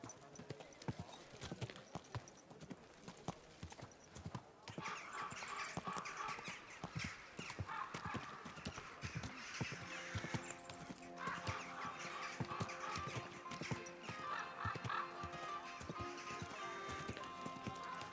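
Horse hooves clip-clop steadily on hard ground, growing denser and louder partway through, with an occasional whinny and a few brief spoken words in the background.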